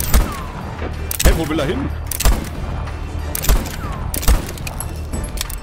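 Revolver gunshots in the game Voidtrain: five sharp, loud cracks spaced about a second apart, fired amid game ambience while someone talks between shots.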